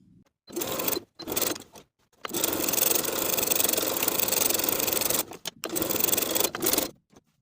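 A sewing machine topstitches the edges of a shirt jacket collar in several bursts, a fast, buzzing mechanical whir with short pauses between runs, close and clear.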